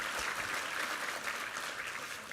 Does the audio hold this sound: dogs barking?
no